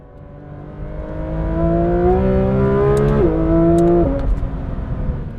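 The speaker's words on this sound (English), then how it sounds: "Downshifts are incredible." A Porsche 911 GT3 RS with a PDK transmission revs its engine and then drops through quick downshifts, each marked by a sharp jump in pitch. The engine sounds loud and close, with a rising tone that holds and then settles back.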